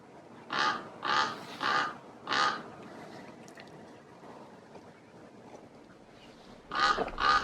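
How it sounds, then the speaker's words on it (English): A large crow caws loudly by a lake at sunrise, four harsh calls in a steady rhythm, a long pause, then two more caws, with no talking. "Huge crow greeted me."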